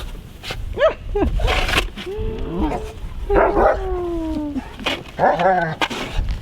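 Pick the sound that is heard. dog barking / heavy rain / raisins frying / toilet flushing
dog barking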